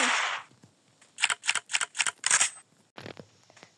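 A rapid series of sharp electronic gunshots from the video game Chicken Gun fires in a quick rhythmic burst, then pauses before a few more shots, preceded by a hissing blast.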